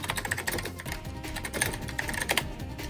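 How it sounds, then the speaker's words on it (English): Rapid, continuous clicking of keys on a computer keyboard while text is typed into an IBM mainframe terminal session, steady and close with no voices. "We're just going to type it out."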